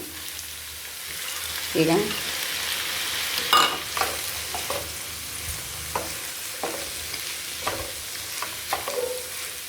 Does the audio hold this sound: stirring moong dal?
yes